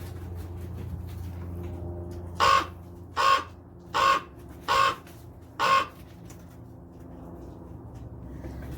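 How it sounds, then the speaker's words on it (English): A Chihuahuan raven gives its common call in Arizona, five harsh caws spaced under a second apart, close and loud over a low steady background hum. "That is the common call of the raven"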